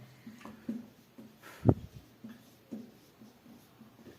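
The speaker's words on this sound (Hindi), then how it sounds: "चलिए रेड पेन से हम लिख देते हैं" A red pen moves across paper during a class 10 maths lesson, giving soft scratchy strokes and small taps close by. One sharper tap lands midway, and a faint voice talks quietly in the background.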